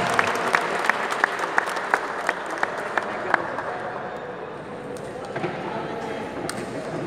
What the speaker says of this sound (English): A big round of applause for our chief guest